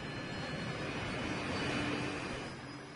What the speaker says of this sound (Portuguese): O gigantesco A380 tem 2 andares e é o primeiro jato com 2 andares por toda a sua extensão.